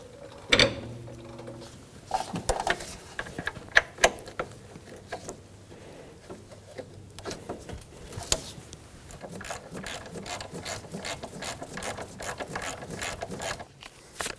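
A ratchet clicks in quick bursts while tightening engine mount bolts on a 2013–2017 Honda Accord, with close metallic clatter early and a long steady run of fast ratcheting later.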